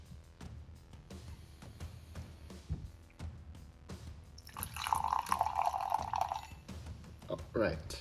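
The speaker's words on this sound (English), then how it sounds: "We're gonna pour a little bit out so you guys can see what the color looks like" Ghost Energy Swedish Fish energy drink being poured into a glass, a steady liquid stream lasting a couple of seconds after some handling clatter, with a few drips at the end.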